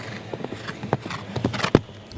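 Horse hooves thud across the turf of a five-star show jumping grand prix round, a steady run of irregular, fairly close footfalls with no talk over them.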